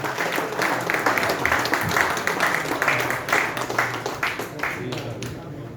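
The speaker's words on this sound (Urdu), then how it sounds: "اور تالیوں میں استقبال کیجئے جناب رفیق اکولوی صاحب" Audience applause at an Urdu mushaira poetry gathering, welcoming the poet Rafiq Akolvi to the stage: steady, dense clapping from a crowd that holds through the whole stretch with faint voices mixed underneath.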